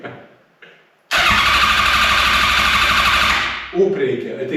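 A Smart car engine starts with a short crank and then fires into a loud, steady idle up close, settling after a few seconds, with a person speaking faintly before it catches.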